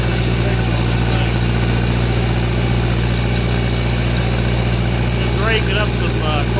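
A John Deere 3020 gas tractor engine with a freshly rebuilt head and a missing exhaust clamp runs steadily up close, a loud, constant low drone with a few faint chirps near the end.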